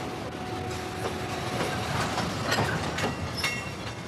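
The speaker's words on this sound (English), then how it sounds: "we pick up a southbound train" A southbound train in Zambia rolls along with steady clickety-clack of wheels over rail joints, a continuous moderate rumble with faint squeals.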